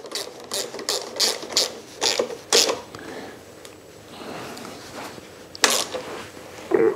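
Ratchet clicking while bolts are tightened to mount a trunk on a Suzuki V-Strom DL1000 motorcycle, short bursts of quick mechanical clicks with pauses between them, close and moderately loud.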